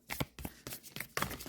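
Soft papery riffling and slapping of oracle cards being shuffled, several quick bursts close up, quiet and without talk.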